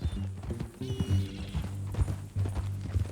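Horse hooves clip-clop at a steady walking rhythm in the Western open-world game Red Dead Redemption 2, close and moderately loud over a low rumbling backdrop.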